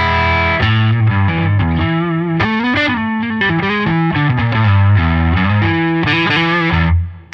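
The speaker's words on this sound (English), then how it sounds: "And now we'll check it out and throw some gain on it. Starting off, we'll hear the neck pickup split." PRS S2 McCarty 594 singlecut electric guitar with the neck pickup split and gain dialed in, playing a distorted riff of chords and single notes, loud and close with no talking.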